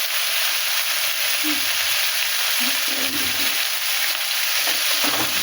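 Eggplant frying in a pan after potatoes and kohlrabi, giving a steady broadband sizzle with soft stirring knocks throughout.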